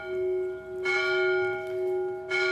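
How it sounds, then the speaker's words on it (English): Church bells ring before mass near the Palace of Wilanów, loud swinging peals with a sustained humming tone and fresh strikes returning in a slow rhythm, with no talk. "it's a mass coming, so that's why these bells are ringing right now"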